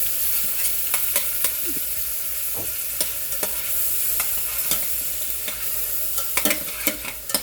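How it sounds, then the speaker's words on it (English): About a dozen semi-frozen shrimp sauté in a hot pan with ginger seasoning, a steady close sizzle broken by frequent sharp stirring scrapes and clicks, with no talking. "And I'm sort of letting them sort of saute a little bit."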